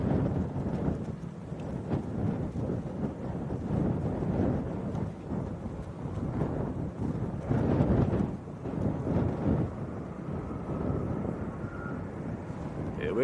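Qatar Airways Airbus A350-1000 at Manchester Airport, a deep, rumbling jet engine roar with wind buffeting the microphone, loud and sustained throughout.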